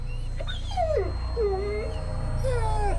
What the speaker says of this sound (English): Bird almost takes a picture of her dog, but he whines like he knows there's an evil force in the camera